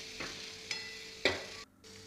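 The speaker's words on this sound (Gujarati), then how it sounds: "અહીંયા મેં 1 ટામેટું લીધેલું છે અને લીલા ધાણા, એને સારી રીતે મિક્સ કરી દઈશું આપણે" Chopped tomato and green coriander are stirred in a pan for gathiya nu shaak, making three distinct spoon scrapes over a faint background sizzle, close and quiet.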